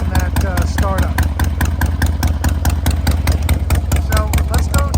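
A motorcycle engine idling just after startup, tuned to run slightly rich, with a steady rapid loud putter close by throughout.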